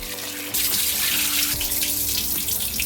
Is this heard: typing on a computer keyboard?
no